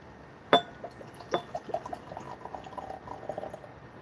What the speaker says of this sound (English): I'll put this in the glass while I'm waiting for Jason to come back